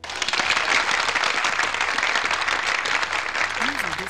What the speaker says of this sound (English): Claps for Eternal Night.